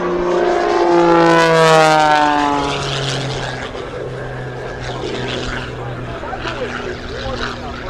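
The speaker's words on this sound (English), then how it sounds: "Right now, tossing and turning. Rolling and spinning his airplane." A propeller aerobatic airplane rolls and spins over the 2017 Wings Over Houston air show, its engine droning loud with steadily sweeping pitch before settling into a rougher, more distant roar.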